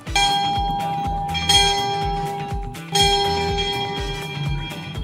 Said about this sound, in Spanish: La torrecilla con el reloj que acaba de sonar